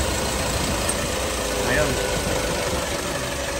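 An Isuzu Travis engine idles steadily up close, a continuous mid-pitched rumble with faint knocking vibration, while a voice speaks briefly over it.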